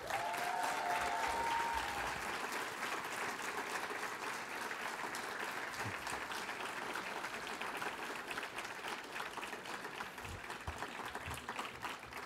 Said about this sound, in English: I would like to sincerely have a round of applause for all our three finalists.